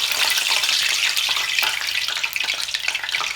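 Slices of yam fry in hot oil, giving a loud, steady crackling sizzle with bubbling pops throughout, close up and with no talking.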